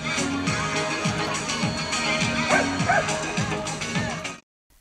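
At a city animal show in Balkhash, Kazakhstan, several dogs bark and yip loudly and repeatedly in a steady rhythm, with a few whimpers and faint background voices, before the sound cuts off abruptly.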